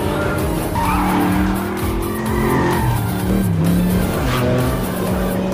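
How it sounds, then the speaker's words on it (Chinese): A 9,000-horsepower GTX muscle car roars and screeches as it speeds off in a film scene, with a loud, continuous engine drone, tire squeal and rising revs filling the whole stretch. "只见他挂挡猛踩油门，帅气转动方向盘后，扑哧一声便跑了出去"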